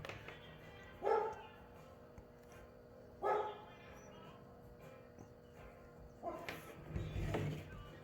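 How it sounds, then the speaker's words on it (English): A dog barks at the neighborhood during a home fix of broken car bumper tabs: three separate short bursts of barking spaced a couple of seconds apart, moderately loud and somewhat distant, with a low rumble near the end. "barking at everything in the neighborhood"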